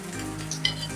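Poha roti frying in a spoonful of oil on a hot pan over medium flame, a soft steady sizzle with faint crackles, close and quiet, no voices.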